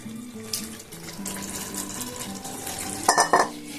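Soaked paneer cubes and their salted, slightly sweet soaking water go into a pan of cooked masala for matar paneer, giving a short wet splash and sizzle near the end over steady background music.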